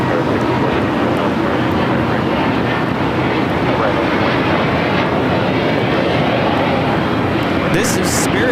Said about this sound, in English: 326 taking off to Houston Intercontinental on the A320neo.